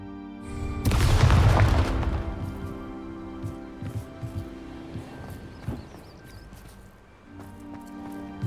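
A Bombarda blast spell explodes in Hogwarts Legacy, a loud, deep, close boom lasting about a second that fades into rumble, followed by scattered footsteps and light clatter over quiet game music.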